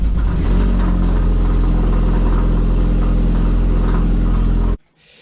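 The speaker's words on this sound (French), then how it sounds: "Je soupçonne le volant moteur, parce que ça fait quand même un bruit assez significatif." A Volkswagen Golf 2 20VT engine with a suspected flywheel fault runs with a loud, steady rumble and a heavy low drone. It cuts off abruptly near the end, leaving only faint background.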